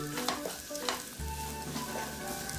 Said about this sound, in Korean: 당근부터 볶아줍니다.